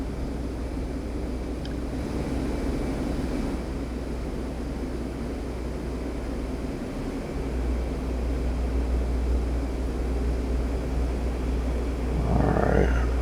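Steady, loud jet engine roar from an F-15C climbing out after takeoff in the DCS flight simulator, a continuous low rumble with a brief dip near the middle and a swell at the end.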